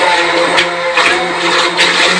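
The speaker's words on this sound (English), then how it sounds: "I want to point out that I'm using a very large stick blender." A very large stick blender whirs steadily and close up as it blends soap oils, with a constant motor hum and a dense, even wash of noise for the whole stretch.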